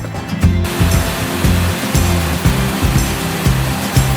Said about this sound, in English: I can hear the sound of waterfall is getting louder